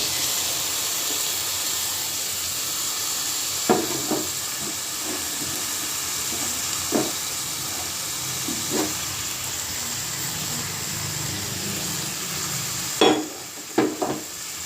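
Boiled potatoes tumble into a pan of frying spice mix for spicy shingara filling, with steady sizzling hiss and a few scattered stirring clacks and scrapes, loudest near the end.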